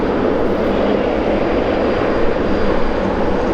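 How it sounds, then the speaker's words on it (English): An Air Canada Boeing 777 airliner at London Heathrow produces a loud, steady broadband jet engine roar that holds without a break, with no talking. "Air Canada 777."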